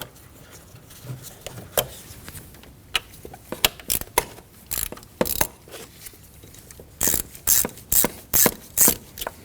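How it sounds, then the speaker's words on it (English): Ratchet working a hose clamp loose on the intake of a 2015-2024 Ford Edge, giving close, crisp clicking that starts sparse and builds into quick, rhythmic bursts of strokes, with no talking. "Moving inward on the intake, we can loosen up the second hose clamp."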